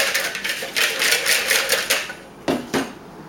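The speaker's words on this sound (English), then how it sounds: "Again, give it another little whisk." A whisk beats Yorkshire pudding batter in a bowl in quick, rhythmic rattling strokes, then pauses before two final sharp taps.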